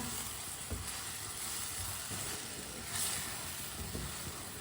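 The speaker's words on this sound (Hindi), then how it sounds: "1 मिनट के लिए टमाटर को मैंने पका लिया।" Tomatoes sizzle steadily in a pan over a high stove flame while chicken is being prepared, a constant broadband frying hiss with a few soft clinks and stirring scrapes and no talk.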